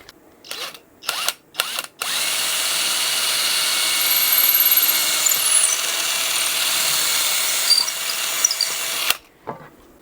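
Drill boring a wiring path to the control cavity of a custom Kyper Alpha guitar body: a few short trigger bursts, then a long, loud, steady whine of cutting through wood lasting about seven seconds.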